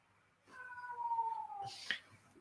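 An unhappy house cat gives one drawn-out, falling meow close to the microphone, followed by a short sharp rustle or clatter, in a quiet room with no talk.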